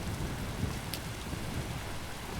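Rain falling in the Skyrim video game, a steady, moderately loud hiss of pouring water with soft low rumbles beneath, continuous and without voices.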